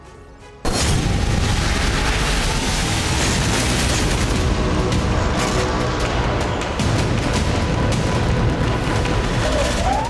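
Heavy bombardment from Israeli strikes, heard as a dense, continuous roar of booms and rumbling gunfire that starts abruptly and stays loud throughout, with a voice talking over it.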